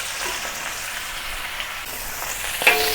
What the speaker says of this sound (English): put it into a single layer and sear both sides until brown